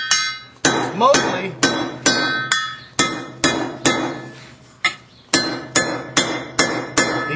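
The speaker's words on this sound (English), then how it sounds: "Just take a hammer." A hammer strikes the ears of an aluminum motor end bell on an Aqua Flo pump in a steady series of sharp, ringing metallic blows, about a dozen in all, with brief speech between them.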